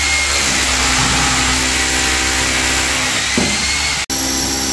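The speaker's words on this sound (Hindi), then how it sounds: "छेद करने के लिए दीवार में गन स्टार्ट कर दिया अपने भाई ने" A power drill bores into a wall in a showroom during an air conditioner installation, a steady loud grinding whine close by that cuts out abruptly near the end.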